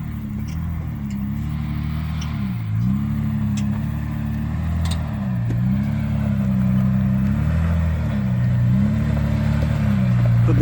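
A 4WD grinds up a rocky track in the Flinders Ranges. Its engine drones steadily with slow rises and dips in pitch as the throttle eases and builds, joined by occasional clatter of tyres on rock, close by and with no talk.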